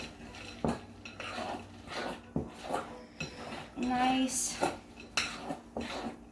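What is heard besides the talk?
chocolate chips being mixed into cookie batter in bowl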